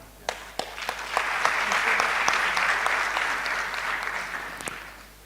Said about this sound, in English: The applause is too feeble.